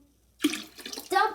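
Water dumped into a toilet, a sudden close splash and gush that starts after a short quiet, fades briefly and then surges again.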